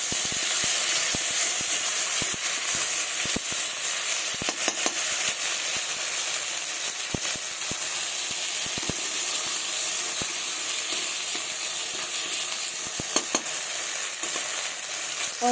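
Ground spice paste fries in a pan with a bay leaf tempering for a mixed-vegetable chhachra. A continuous loud hiss and sizzle runs throughout, with scattered crackles and pops close up.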